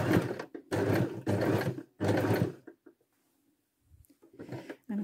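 Sewing machine stitching a circle on a quilting project, three loud bursts of rapid mechanical whirring separated by short pauses, then near silence and a quieter burst at the end.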